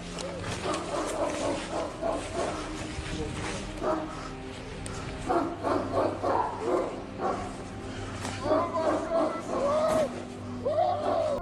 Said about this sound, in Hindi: कुत्तों के मुसलसल भौंकने की आवाजें भी सुनाई दे रही हैं